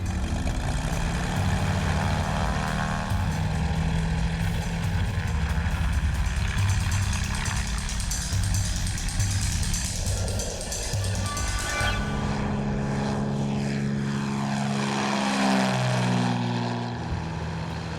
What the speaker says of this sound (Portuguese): Mas à medida que o avião sobe,